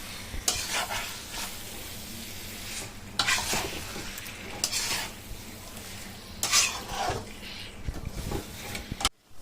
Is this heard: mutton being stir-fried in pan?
yes